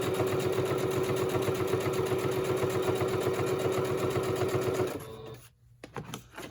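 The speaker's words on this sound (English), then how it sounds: "We're going to actually stitch a straight stitch here instead of a" Close up, a sewing machine runs a straight stitch in a steady, fast mechanical rhythm for about five seconds, then stops, leaving a few faint clicks.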